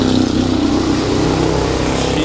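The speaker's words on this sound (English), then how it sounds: "this car is so loud" A loud car engine revs continuously nearby, a dense rumbling roar holding steady throughout.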